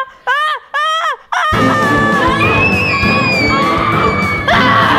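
Several people scream and yell at once, a few sharp wavering cries at first and then a loud, dense wall of overlapping shouting that carries on to the end.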